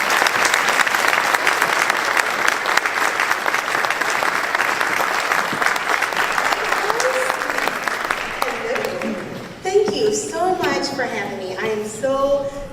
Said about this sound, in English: So big hand of applause